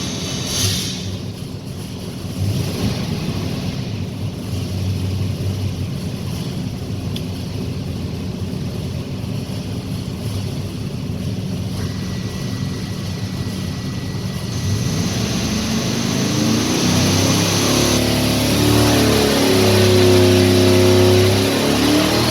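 A car engine during a boosted dyno pull, a loud, steady roar that climbs in pitch as the revs build toward the end, with the rising whine of the engine and dyno rollers and no voices.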